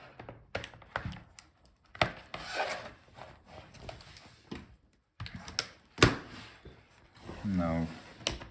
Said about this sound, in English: now let's unfold the hinges.